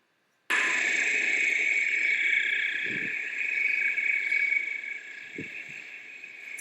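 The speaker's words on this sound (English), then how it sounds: "Sounds like crickets." Steady, continuous high-pitched insect chirring, like crickets, holding evenly throughout with a couple of soft low thumps in the background.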